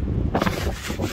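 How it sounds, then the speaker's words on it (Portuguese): Strong wind buffets the microphone in heavy, uneven gusts, roaring loudly with rough low-end rumble and no voices. "E o vento tá forte, hein, galera?"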